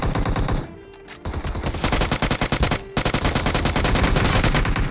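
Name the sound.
Bizon gunfire in video game PUBG Mobile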